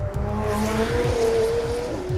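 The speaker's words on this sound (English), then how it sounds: "I think the McLaren 720S has the best McLaren sound so far." A 2018 McLaren 720S supercar engine revs loudly and close, its tone rising and shifting with a smooth, sustained growl and a trace of tire noise, heard without any talk.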